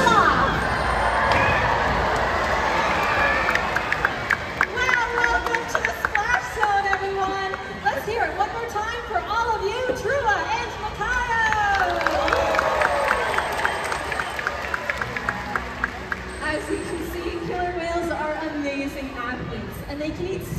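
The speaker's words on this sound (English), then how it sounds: "when you see it, give him a big cheer" Crowd at a SeaWorld Orlando killer whale show, with loud cheering and shouting, children's voices and scattered applause, all under an announcer speaking over the stadium sound system.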